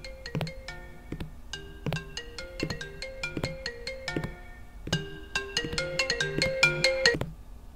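A cellphone ringtone loops its bright melodic pattern several times, fairly close and growing louder toward the end, with no talking over it.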